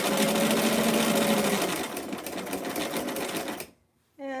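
A sewing machine stay stitching the princess seams of a dress, a loud, fast, steady motor whir close by for over three seconds, then stopping abruptly as a voice starts speaking.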